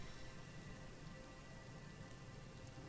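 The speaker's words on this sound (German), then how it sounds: "hast du es regnen lassen oder ist es noch der Regen von Maradino?" Rain falls in the fantasy role-playing game Divinity: Original Sin as a soft, steady, even hiss that continues without break for the whole moment.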